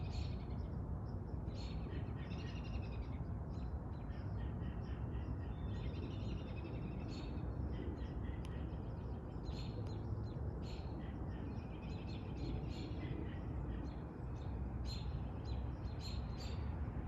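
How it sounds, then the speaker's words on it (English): Outdoor birdsong in spring: many chirps and tweeting calls scattered continuously through a steady, soft background hiss, fairly faint and distant, with no voices. "Listen to all the bird sounds."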